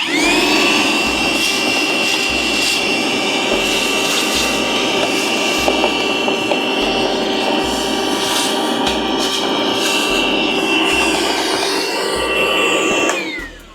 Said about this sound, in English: It is dirty, so I'm going to vacuum that. We got the DeWalt vacuum.